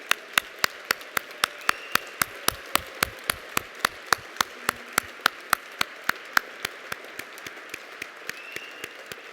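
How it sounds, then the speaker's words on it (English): At an induction dinner honoring award winners, a single pair of hands claps sharply and near in a steady, even rhythm, about four claps per second, over a faint murmur of a wider room. "if we could have a long-deserved round of applause for all of our"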